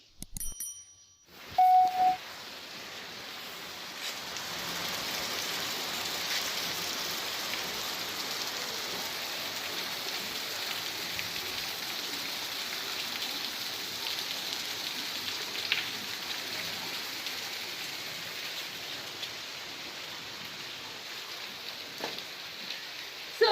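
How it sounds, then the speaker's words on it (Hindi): Heavy, steady rain on an evening, a dense continuous hiss and patter that holds evenly throughout, with one brief ringing tone near the start and a few louder drips. "इतनी तेज बारिश हो रही है, रुकने का नाम ही नहीं ले रही।"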